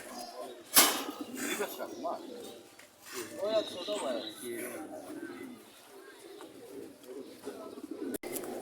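Pigeons coo in soft, throaty bursts close by at a pigeon market in Khulna, mixed with a sharp chirp near the start and people talking in the background.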